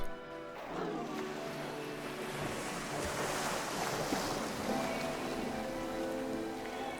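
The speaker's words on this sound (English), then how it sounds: "I hear water." Flowing water in The Beginner's Guide video game, a steady broadband rush that runs the whole time, with soft tonal game music layered over it and no voices.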